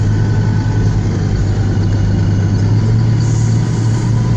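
A vehicle engine drones low and steady up close, pulling into a grain elevator at an even, constant pitch, with no voices.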